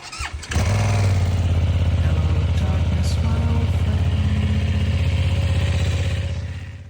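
A BMW 320i's 2-litre B48 turbo engine starts with a sharp crank and settles into a loud, steady idle with a pulsing, throaty hum close by.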